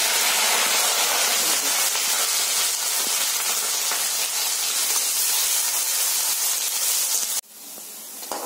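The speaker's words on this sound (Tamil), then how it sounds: "வெங்காயம் நல்லா வதங்கிடுச்சு" Onions and curry leaves fry in a pan with a dense, continuous hissing sizzle that holds steady up close, then drops away sharply near the end.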